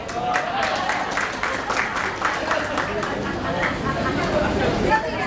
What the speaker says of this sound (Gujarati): જે સમજશે એ તાળીઓ પાડશે